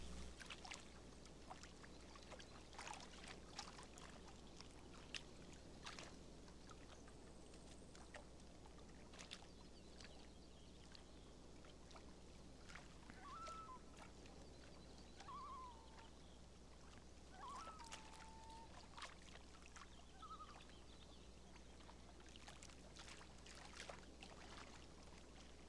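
Gentle water sloshes against a boat on Lake Boulder in the Fishing Sim World video game, a faint, steady lapping wash with soft scattered splashes and a few distant bird chirps, no voices.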